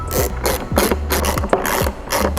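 Ratchet wrench cranking M5 bolts snug on a car strut while fitting a pillowball bearing, giving repeated rapid clicking bursts in a steady back-and-forth rhythm, close and fairly loud, with no talking.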